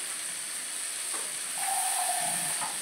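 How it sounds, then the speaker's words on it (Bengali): Water splashed into a hot pan of carrots and green peas for a malai curry, giving a steady steamy hiss that swells toward the end, with faint utensil touches and no talk. "এবার একটু এতে জল দেবো"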